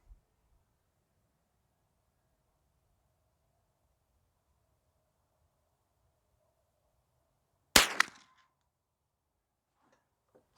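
A single sharp crack from a .22 rifle with a BSA Sweet 22 scope firing CCI Mini-Mag ammunition, followed by a brief trailing echo. Near silence comes before and after.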